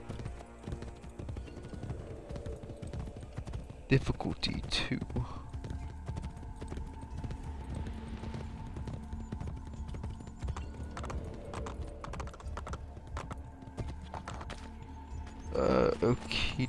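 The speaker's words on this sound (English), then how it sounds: "These horses are a little bit quicker, I think." Horses gallop in Assassin's Creed Brotherhood with a rapid steady clip-clop of hooves, while a voice talks over it and a short whinny comes in near the end.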